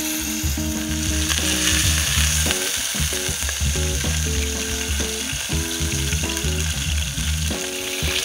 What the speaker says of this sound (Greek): πάμε να βάλουμε λίγο ελαιόλαδο και βάζουμε το κρέας προσεκτικά από τη μία πλευρά